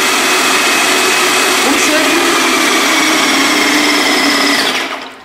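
An airless paint sprayer runs loud and close, a dense, steady mechanical whine and hum building pressure through a 15-metre hose still holding paint, then cutting off at the end.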